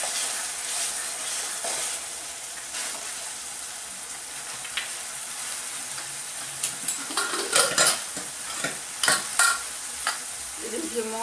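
Spice masala fries in a pan for a Rajasthani moth bean curry, giving a steady soft sizzle with spoon stirs and a few sharp metallic clatters toward the end, close up and without talk.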